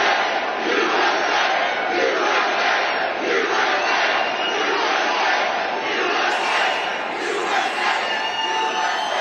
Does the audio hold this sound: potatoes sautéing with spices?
no